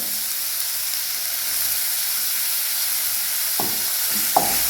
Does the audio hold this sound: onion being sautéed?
yes